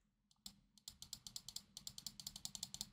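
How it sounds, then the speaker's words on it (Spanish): A computer mouse button is clicked rapidly and repeatedly, about twenty crisp, near, quiet clicks in a quick, slightly uneven rhythm at a desk setup. "No dejo de hacer clics. Suena clic, clic, clic, clic,"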